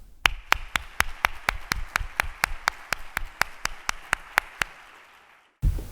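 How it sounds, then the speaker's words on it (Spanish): About twenty sharp, evenly spaced hand claps ring out in a quiet room at a breast cancer awareness event, steady and close, then stop abruptly before a voice begins. "Un fuerte aplauso."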